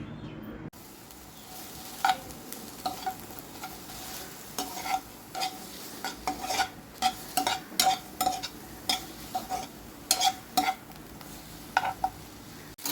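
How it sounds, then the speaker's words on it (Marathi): Onions and tomatoes roast over a medium flame, a soft background sizzle broken by frequent scraping and clinking of a spatula against the pan, with no one talking. "मिडियम फ्लेमवर हे कांदे आणि टोमॅटो भाजून घ्यायचे"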